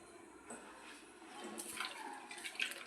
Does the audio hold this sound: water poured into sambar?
yes